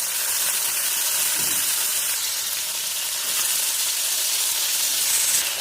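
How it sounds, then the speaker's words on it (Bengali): Marinated chicken wings frying in hot oil in a pan, giving a dense, even, close sizzle that holds steady throughout with no talking. "সাদা তেলটা খুব ভালো করে গরম হয়ে গেছে ম্যারিনেট করা চিকেন উইংসগুলো ফ্রাই করে নেব"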